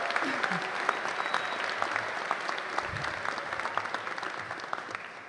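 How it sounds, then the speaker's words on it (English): Graduates at a college commencement ceremony clap for themselves in a large hall, a continuous wash of applause with scattered sharper claps and a faint voice beneath, easing slightly toward the end. "Please clap for yourselves one more time."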